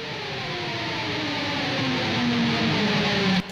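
A guitar pick scrape sound effect built in Cubase swells in over a few seconds, a rising noisy scrape with sliding tones that grows louder and then cuts off abruptly near the end.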